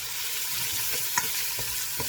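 Carrots and onions shallow frying in a pan for borscht, a steady dense sizzle with a few light stirring scrapes and a small clink, close and without talk.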